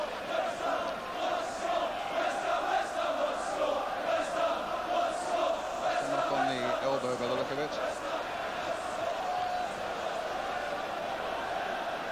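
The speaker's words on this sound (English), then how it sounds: "the Newcastle crowd have been able to chant 4-0, 4-0" A large football crowd at a 1986 Newcastle United versus West Ham match chants a rhythmic, repeated two-beat cry with a steady pulse, a broad roar filling the stadium beneath a commentator's voice.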